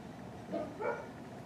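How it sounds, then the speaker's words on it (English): Two short dog barks sound faint and distant over quiet room tone, one just after the other. "Now my dogs are barking at something."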